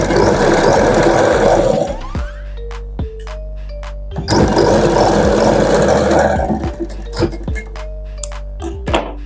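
A sewing machine stitching darts on an Aari blouse, two loud bursts of motor whir, each about two seconds long, separated by metallic clinks and taps, with no talking.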